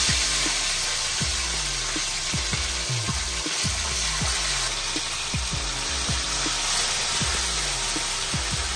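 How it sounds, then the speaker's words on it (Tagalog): Tilapia fries in hot oil in a pan, giving a loud, continuous dense sizzle with steady crackling and popping throughout. "Prito na po natin itong tilapia."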